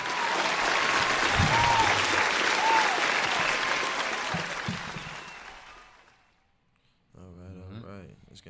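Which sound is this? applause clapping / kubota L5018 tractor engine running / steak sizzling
applause clapping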